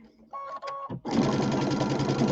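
A sewing machine runs steadily while stitching along a pillow seam, a close, dense mechanical whir that begins after a short voice and a brief pause and continues without a break.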